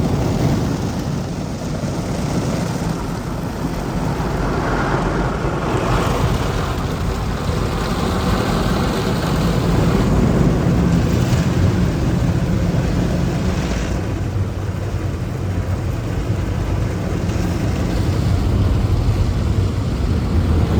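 Automatic car wash at a Shell station, a steady loud mechanical rumble of brushes, water jets and machinery running continuously without pause, heard from inside the car.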